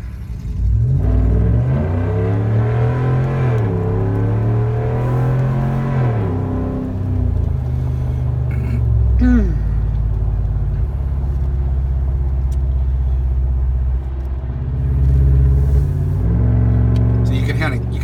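A 2017 Ram 1500 Big Horn pickup accelerating on a freeway, its aftermarket exhaust giving a steady low engine drone that climbs and eases with the revs over road rumble, heard from the cab, with speech over it.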